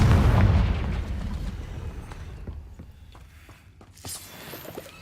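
A Confringo spell detonates in a fantasy video game, opening with a loud, deep explosive boom that rolls off into a decaying rumble, then small scattered crackles and a lighter burst at the end.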